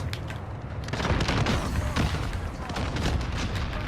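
Rapid, dense gunfire from a Ram 7 rifle in a video game gunfight, with overlapping shots and booming reports filling the whole stretch at a loud, steady intensity.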